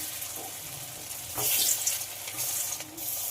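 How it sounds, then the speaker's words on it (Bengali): Fish frying in hot white oil in a wok, a steady crackling sizzle that swells louder for a moment, heard close and without speech. "তেলটা খুব ভালোভাবে গরম করে নিয়েছি। এবার একে একে ভেজে নেব।"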